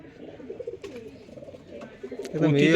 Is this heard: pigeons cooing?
yes